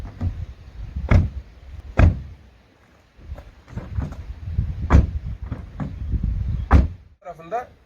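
Honda Civic 1.6 Eco Elegance car doors are shut several times, a series of solid, muffled thuds spaced a second or so apart with faint handling noise between.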